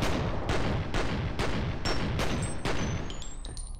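Rapid, loud video game gunfire in a dense, continuous burst of repeated shots with booming impacts, steady throughout and ending in a rising electronic whine.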